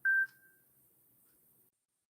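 A single short telephone call tone, like one bright beep, sounds once at the start and fades quickly into near silence. It is clear and alone, with no talk over it.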